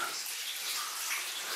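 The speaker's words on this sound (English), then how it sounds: "there's water running down right there" Water runs down inside a gold mine, a continuous hissing rush of flowing and splashing water, fairly close and steady, with no talking.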